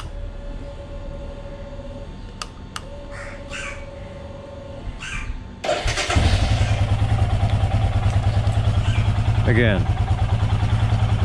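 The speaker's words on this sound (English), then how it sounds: "So now to test the throttle feedback." Crows caw in the background before a Royal Enfield Himalayan fitted with a new NGK ignition cable starts up. Its single-cylinder engine thumps loud and close, with a throttle change near the end, and a voice speaks briefly.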